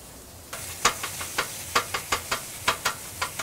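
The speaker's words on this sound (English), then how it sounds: "hear that sizzle" A steady sizzle hisses underneath while sharp, regular clicks and taps repeat over it, as mahi is chopped on a hot food-truck grill with a utensil.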